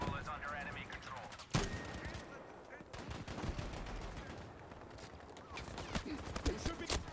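Gunfire in the video game Battlefield V crackles in dense bursts of automatic fire and sharp single shots, near and loud, with bursts from several weapons over a noisy battle bed and a voice speaking in places.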